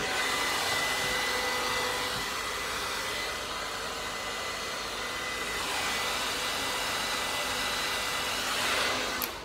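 A handheld hair dryer blows on bangs with a loud, steady whooshing roar that barely varies over the whole stretch and is heard alone, without voices.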